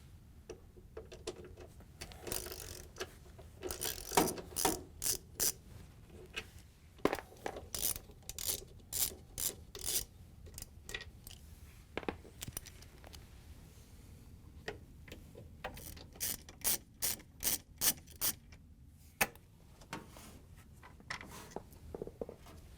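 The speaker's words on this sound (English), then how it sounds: "We're going to use a socket with an extension to get the 2 front ones here" A ratchet socket wrench with an extension works out the drive motor bolts of a Frigidaire front-load washer, making repeated bursts of quick metallic clicking with short pauses between strokes, close up and with no talking.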